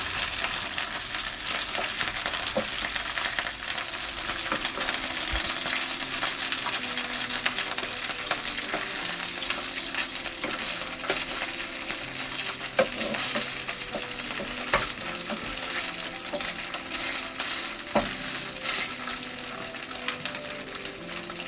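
Egg and shrimp fry on their second side over low heat, a steady close sizzle and crackle running without a break, with occasional light clinks of a utensil against the pan.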